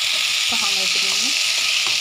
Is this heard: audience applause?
no